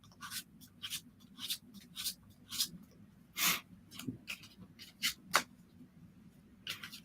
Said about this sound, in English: This takes a little more mixing for me because I don't riffle shuffle.